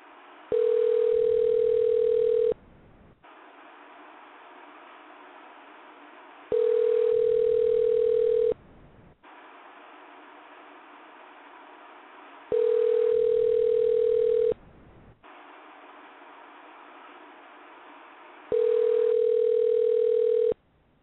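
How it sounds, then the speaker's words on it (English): A telephone ringback tone repeats four times at an even rhythm while a call is placed to a guest on a radio show, each steady two-second tone followed by a longer pause filled with faint line hiss. "I'm going to go ahead and call our guest"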